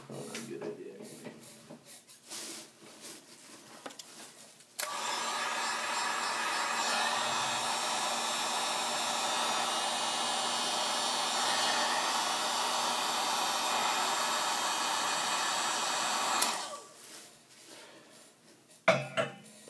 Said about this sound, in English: I'm going to take my heat gun, which I forgot to plug in before the video